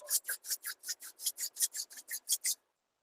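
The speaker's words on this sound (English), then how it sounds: "Slowly rub your palms." Palms rub together slowly, about fourteen even back-and-forth swishes in a steady rhythm, soft and close, then silence.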